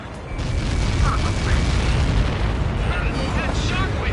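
A missile detonation shockwave in the flight combat game Ace Combat 7, a sustained loud rumbling roar with turbulent crackle and bursts, under voice chatter.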